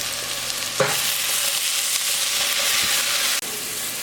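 Onions frying with whole spices such as star anise, bay leaf, mace, dried red chilies and cinnamon for palak chicken, a steady loud sizzle with a sharp clink and stirring scrapes.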